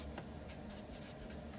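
Pen or marker writing a word by hand, a soft continuous scratching with faint stroke bursts against a low steady hum, close and quiet, no talk.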